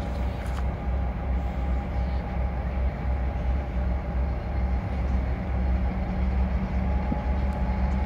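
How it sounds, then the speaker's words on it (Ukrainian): An electric commuter train passes at a Lviv rail line with a steady, continuous rumble and low hum throughout, holding a fairly constant loudness with no voices. "Електричка."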